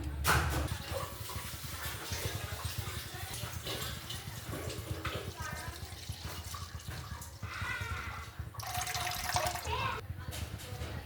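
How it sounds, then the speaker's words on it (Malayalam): Milk pours into a pan on a stove for payasam, a continuous close liquid splashing and gurgling that runs steadily for several seconds. "നമുക്കിതിലേക്ക് പാൽ ഒഴിച്ചു കൊടുക്കാം"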